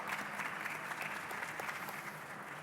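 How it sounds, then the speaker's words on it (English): Conference audience applauding at a business forum in Africa, a dense even patter of many hands clapping, steady and fairly distant, with no voices over it. "A round of applause, ladies and gentlemen."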